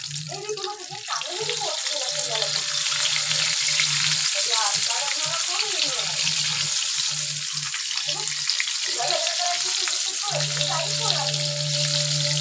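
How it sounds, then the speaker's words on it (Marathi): Chicken heart pakodas coated in rice flour fry in hot oil in a kadhai, giving a continuous loud sizzle with bubbling and occasional stirring. A voice is heard briefly over the frying. "आता आपण तांदळाचं पीठ लावून त्याला फ्राय करूया"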